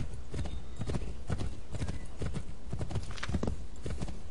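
Horse hooves galloping in the video game Assassin's Creed 3, a fast rhythmic run of clip-clop beats repeating steadily and up close, with a faint whinny mixed in.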